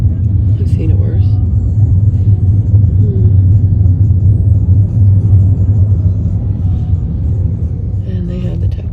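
Inside an Uber car heading to the airport, a steady low engine and road rumble fills the cabin throughout, with a voice talking over it.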